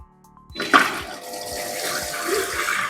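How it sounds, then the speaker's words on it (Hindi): A Chinese smart toilet flushes after a brief quiet start, with a sudden rush of water that settles into a steady, close hiss of draining and refilling. "टॉयलेट फ्लश हो गई।"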